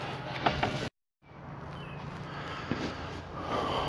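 Bolts are refitted on the radiator fan of a 2012 Mitsubishi Eclipse Spyder, with close ratcheting clicks and metallic handling noises, a short silent break, then more scattered clinks and tool sounds. No one speaks.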